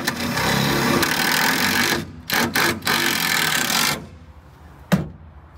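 A drill boring through the thin sheet metal of a Toyota Tundra: a loud, harsh grinding whir for about two seconds, a few short stuttering bursts, more steady drilling, then it stops, followed by a single sharp knock.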